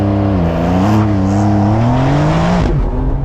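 A Porsche 911 Carrera S (992) accelerates on a straight, its engine rising steadily in pitch for a few seconds before a sharp shift drop, loud and close.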